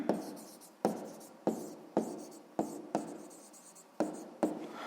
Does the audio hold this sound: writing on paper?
yes